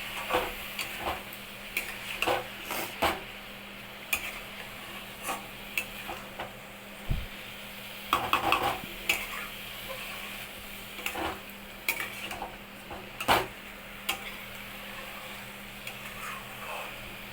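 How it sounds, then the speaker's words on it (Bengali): Food being stirred and sautéed in a pan for a Bengali dish, with a steady soft sizzle broken by repeated scraping and clinking of a spoon against the pan, close and moderately loud, no talking. "এবার এটাকে ভালো করে কষাতে থাকবো এর সঙ্গে, যাতে একদম পুরো এটা মিশে যায়।"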